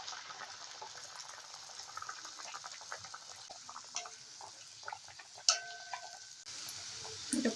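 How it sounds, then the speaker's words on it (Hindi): Assamese jun pitha fry in hot oil with a soft, steady sizzle and faint bubbling, plus occasional light clinks and stirring sounds close by. "इस पे मैं एक एक करके जो पिठा बना के रखा था उसको फ्राई कर लूँगी"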